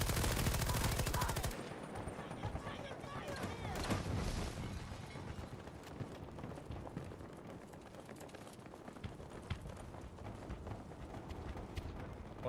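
Rapid automatic gunfire and scattered shots ring out in a shooter video game, Avatar: Frontiers of Pandora, loud bursts at first then thinner, ongoing firing mixed with game noise.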